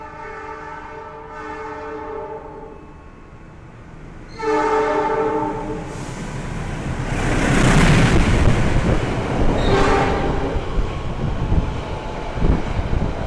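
A train horn sounds in repeated blasts as the Malabar passenger train rumbles past nearby on an Indonesian railway, its roar swelling and lingering under the horn.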